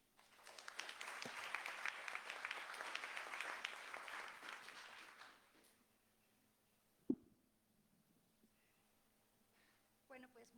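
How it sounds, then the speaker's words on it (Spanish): Audience applause at a book presentation on gender studies, a room of clapping hands swelling and holding for about five seconds before fading to quiet, followed by a few faint bumps and rustles. "de la maestra Nancy Susana Chávez Hernández, a quien le damos un aplauso, por favor."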